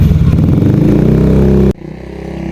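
Motorcycle engine running loud and close with a steady rhythmic idle throb, cutting off abruptly partway through and leaving a quieter low rumble.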